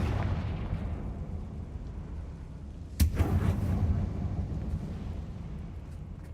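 Confringo fire-blast spell in Hogwarts Legacy, one sudden explosive burst inside a closed mine, followed by a rumbling crackle over a constant low ambient drone.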